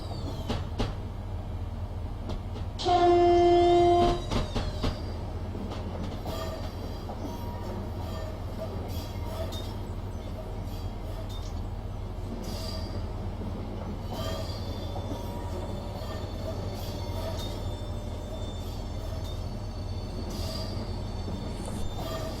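Class 395 high-speed train in Train Simulator sounding one short, loud two-tone horn blast over a steady low rumble of the moving train, which carries on with faint rattles afterward.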